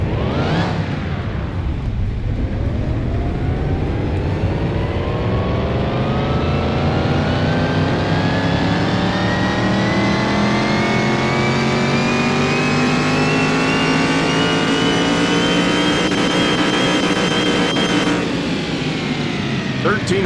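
In Car Mechanic Simulator 2021, a car engine on a dyno revs loudly and climbs steadily in pitch for about twenty seconds before cutting back, heard close and continuous with a voice talking over it.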